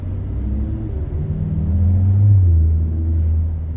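A car drives along a road with a low, steady engine rumble and tyre whir that swells gently midway. No one speaks.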